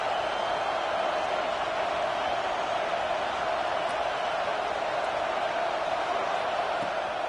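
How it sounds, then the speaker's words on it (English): A college football stadium crowd roars for the defense on a big third down in the red zone during a Maryland game, a steady, dense wall of cheering that holds at an even level throughout. "this crowd is getting behind this defense"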